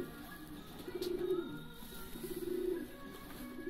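Pigeons coo at a loft in two soft, rolling bursts with a short pause between them, close by against a quiet background.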